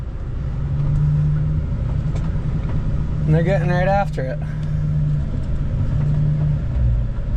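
Table bagger engine running steadily while packing haylage into a bag, a loud continuous mechanical drone with people talking over it partway through.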